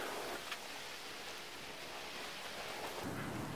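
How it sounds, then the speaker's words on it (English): Steady rain and gusty gale wind outdoors, a constant broadband rush with pattering drops and no distinct peaks, holding at an even moderate level throughout with no voices. "It is blowing a gale outside, but you know what rainy days are good for?"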